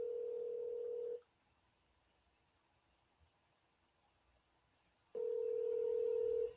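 A telephone ringback tone plays while a call goes through: two long, steady, fairly quiet beeps, one at the start and one at the end, with about four seconds of silence between them.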